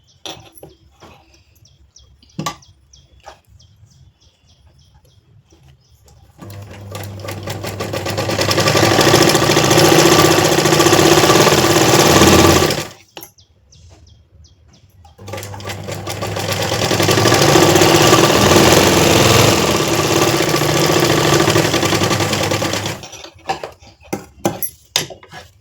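Two long bursts of a sewing machine stitching blouse lining fabric, each running steadily for several seconds at close range, separated by a short pause, with faint bird chirps in the quiet gaps.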